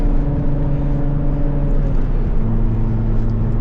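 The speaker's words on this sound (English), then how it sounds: "Never get sick of the sound this car makes when it's on the rev limiter." A Toyota Supra MK4 engine sits on its rev limiter with a loud, close, droning tone that steps down in pitch about two-thirds of the way through. Road noise sits underneath, and no one talks.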